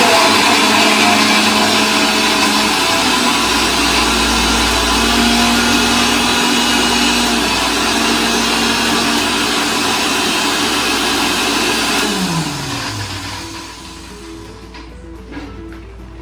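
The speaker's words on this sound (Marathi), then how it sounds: "तर तुम्ही बघू शकता या ठिकाणी मी मिक्सर जोडलेला आहे" A kitchen mixer grinder whirs loudly while grinding a spice paste for homemade Chinese noodles, a steady high-pitched motor roar that winds down and stops near the end.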